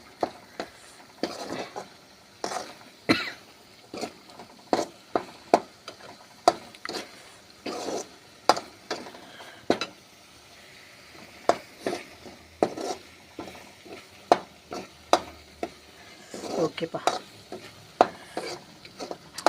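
Chutney ingredients stirred and sautéed in hot oil, a spoon scraping the pan in repeated irregular strokes over a soft, steady sizzle, close and clear with no talking.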